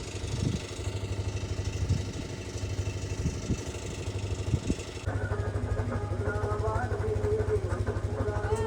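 A tractor engine idles with a steady low throb at a village palkhi procession, joined partway through by fainter mixed background activity.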